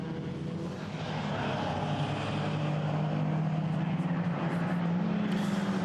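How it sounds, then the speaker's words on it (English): A Renault 5 race car at Silverstone drones steadily on approach to Copse Corner, its engine note rising in pitch as it nears, with distant circuit noise around it. "we've got the Renault 5 there coming into Copse Corner"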